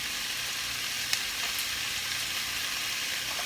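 Spices hit a hot pan for a vegan coconut curry, giving a steady, close frying sizzle that holds evenly throughout with a few small pops and no voices.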